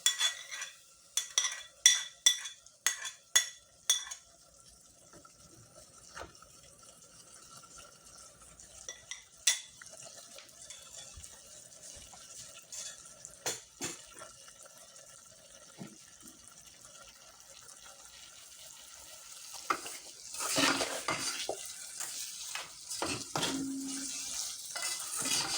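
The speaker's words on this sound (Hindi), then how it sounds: "थोड़ा सा इसको चलाएंगे" Tomato, ginger and garlic are stirred in a pan with a metal spoon, giving sharp clinks and scrapes early on over a soft sizzle that grows louder toward the end, close by with no speech.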